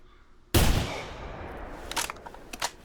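A single hunting rifle shot rings out in theHunter 2017, a sharp loud crack followed by a long decaying echo, with a few faint clicks and rustles afterward.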